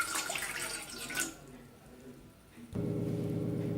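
Water from a tap pours into a vessel, a rushing splash that softens and trails off, then a steadier fuller stream at the end, close and moderately loud.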